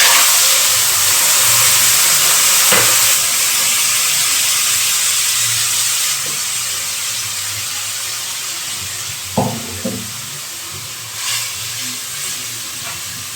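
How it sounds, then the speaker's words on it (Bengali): Tamarind water poured into a hot pan for a Bengali sour fish curry with pointed gourd, giving a loud, steady steamy hiss and sizzle that fades gradually, with a few faint clinks near the end. "তেঁতুলের জলটা দিয়ে দেব।"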